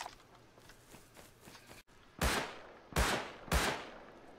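Three loud, sharp bolt-action rifle shots crack in a shooter video game, each followed by a brief echoing tail, with soft rapid footsteps before them.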